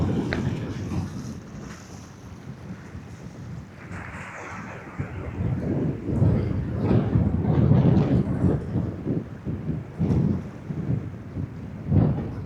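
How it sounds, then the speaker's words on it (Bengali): Strong wind sweeps across a sandy riverside beach where three rivers meet at Kuakata, beside a casuarina grove; loud, rumbling gusts buffet the microphone continuously, rising and falling in force. "শুধু বাতাস"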